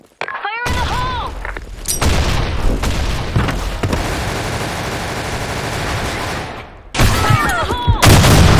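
A grenade blast erupts in the online shooter Blackshot: loud, dense booming and crackling sustained for several seconds amid gunfire, with a second heavy burst near the end and brief voice callouts at the edges.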